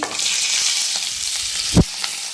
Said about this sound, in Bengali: জল ঝরানো চালটা আমি দিয়ে দিচ্ছি